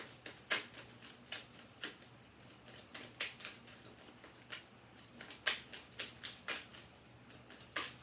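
Tarot cards are shuffled close by, a quiet run of soft, irregular papery riffles and slaps over a faint background hum, with no talk.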